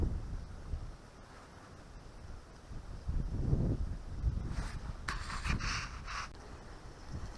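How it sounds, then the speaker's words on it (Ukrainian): Wind gusts rumble across the microphone in low, uneven buffets outdoors while fishing, with faint rustling and a few soft scratchy sounds near the end. "Вітер здуває."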